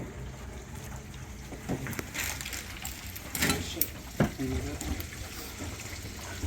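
Water drains from a filled kitchen sink with its plugs pulled, giving gurgling and trickling with a few louder splashes and glugs, fairly quiet and close, with some background noise.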